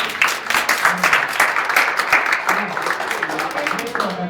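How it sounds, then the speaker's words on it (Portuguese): A church congregation claps together in a steady, dense wash that runs the whole time, with a voice faintly audible beneath the clapping. "Nas palmas do Senhor."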